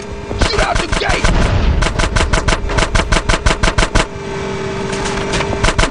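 Rapid bursts of video game gunfire blast at an old sewer gate, a rattling string of loud sharp shots broken by short pauses, with a low engine hum underneath.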